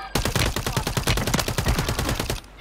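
Rapid, sustained automatic gunfire from a Call of Duty Warzone match, loud and close, with dense overlapping shots running almost without pause.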